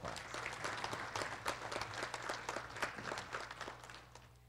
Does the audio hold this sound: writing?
no